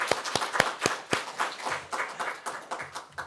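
A church congregation claps in welcome for visiting prayer-house members during a Sunday service: scattered, sparse claps at first, then a steadier run of hand claps close by in a quiet room.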